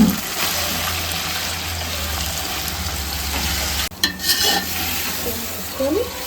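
Chicken with ginger-garlic paste and lightly fried green chillies sizzles steadily in a pan for biryani, a broad continuous hiss with a brief clatter near the end.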